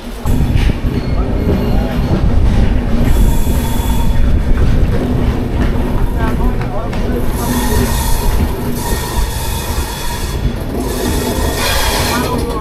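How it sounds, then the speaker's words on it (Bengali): The 22861 Kantabanji Ispat Express pulls out of Kharagpur station, a loud, close rolling rumble of railcars with rhythmic wheel clatter and brief metallic squeals, steady for the whole stretch. "খড়গপুর স্টেশনে 2 মিনিট হল্ট দিয়ে ট্রেন ছেড়ে দিল"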